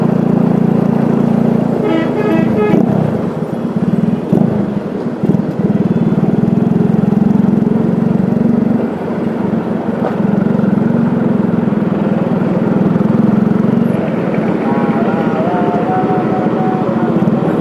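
Congested street traffic with cars and motorcycles, a dense continuous engine rumble close by, with occasional horn toots and passing revs rising out of the drone.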